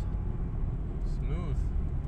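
Automatic transmission in a VW Golf/Jetta Mk1/Mk2 kicking down and then upshifting while driving: a steady low engine and road rumble with a brief rising-then-falling engine tone as the gear changes.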